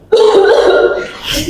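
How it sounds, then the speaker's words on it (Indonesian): A single loud, close cough bursts out and trails into a drawn-out throaty rasp. "pertama kali batuk terlebih dahulu ya"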